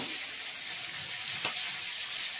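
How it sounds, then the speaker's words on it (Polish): Onions sizzling in a pan, three onions' worth for a liver with mushrooms dish, giving a dense, steady hiss with a faint stir-like scrape midway. "Tu podsmażamy cebulkę."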